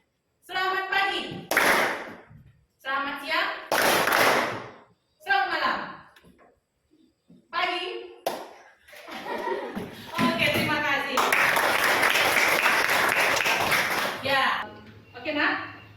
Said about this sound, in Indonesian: Tidak, tepuk tangan.